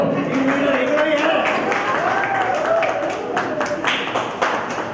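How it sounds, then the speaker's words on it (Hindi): An audience at a team prize event claps steadily for several seconds, a dense loud patter of many hands with crowd voices mixed underneath. "ताली बजाओ।"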